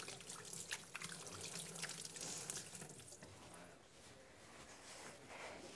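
Running tap water splashes steadily over hands at a sink for a few seconds, a close, even trickle and patter that eases slightly midway, with no talk, while preparing to pack salted fish into freezer bags.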